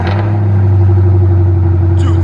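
A 2018 Chevrolet Camaro SS with a 6.2L V8 and Flowmaster Outlaw dual exhaust, its large muffler cut off, holds a deep, steady idle rumble close by, unbroken throughout.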